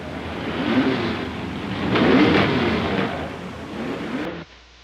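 A 1964 Dodge drag racing car makes its trophy run at the Indy Nationals, a loud, rough engine roar that swells and peaks mid-run, then fades before cutting off abruptly at the end.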